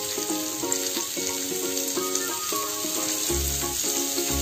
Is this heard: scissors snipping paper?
no